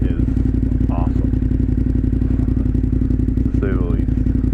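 A 2018 KTM 1090 Adventure R motorcycle rides along with a steady, loud engine drone and wind rumble throughout, while a voice talks over it.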